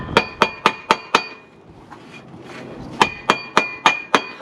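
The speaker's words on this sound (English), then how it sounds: "got the hammer out" Hammer blows on the engine of an old Volvo 245 left abandoned for 19 years: two bursts of five or six sharp, ringing metallic strikes in quick, even rhythm, separated by a brief quieter pause, close and loud.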